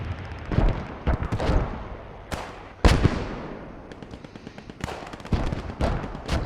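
MG34 machine gun fire in a multiplayer war video game match, heard as several sharp loud bursts and single cracks spread irregularly through the clip over a rumbling battle background, with no talking.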